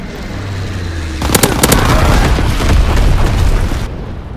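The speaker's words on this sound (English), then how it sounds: "Enemy mortar fire incoming. Fall back. Enemy bomber. Incendiary bombs incoming." Heavy bomb and mortar explosions in a war video game boom and rumble in a dense, loud barrage lasting several seconds, with a few sharp cracking bursts at the onset.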